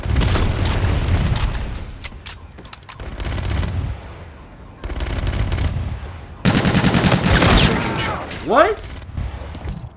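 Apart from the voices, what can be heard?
gunfire in Call of Duty: Infinite Warfare video game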